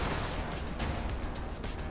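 A mech's cannon firing in the video game Brigador, with a dense, continuous barrage of booming shots that run together into a steady rumbling roar from start to finish.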